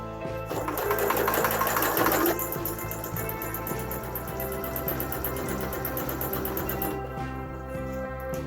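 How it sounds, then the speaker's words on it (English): A sewing machine stitching a homemade fabric face mask runs steadily, its rapid mechanical stitching whirring close by for several seconds without a break. "I don't want to run over it with the sewing machine here"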